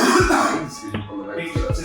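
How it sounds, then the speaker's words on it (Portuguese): A few harsh coughs from a person close to the microphone, in quick succession. "Só desculpa aqui pela minha tosse"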